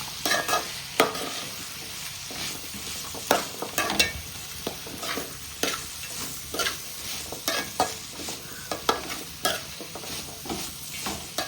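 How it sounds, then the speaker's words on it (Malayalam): Onions and salt fry and sizzle steadily in a pan for chicken biryani, with a spoon stirring and scraping in repeated irregular strokes, close and alone without talk. "ഈ ഉള്ളി പെട്ടെന്ന് വഴണ്ട് വരാൻ വേണ്ടി നമുക്ക് ചില ഉപ്പും കൂടി ഇട്ട് കൊടുക്കാം. നല്ലതുപോലെ ഇളക്കി കൊടുക്കാം."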